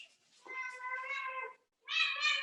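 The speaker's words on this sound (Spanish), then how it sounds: "Llegó la gata fiera" A cat meows twice up close, a long drawn-out call followed by a shorter, louder one after a brief pause.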